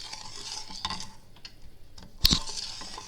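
Sugar and honey syrup being stirred in a pot with a squeeze of lemon, soft scraping and swishing strokes with light bubbling, fairly quiet and close, ending in one sharp clink of utensil against the pot.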